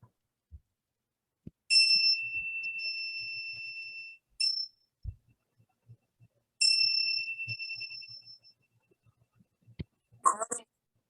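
Small bells ring out to open a study group: two sustained, clear metallic tones, each struck and left to fade, with a brief chime between them and scattered soft knocks in a quiet room.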